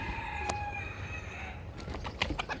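A rooster crows in a backyard flock of chickens, ducks and geese, a single crow rising around the middle of a steady low rumble, with a few short clucks and bird calls scattered toward the end.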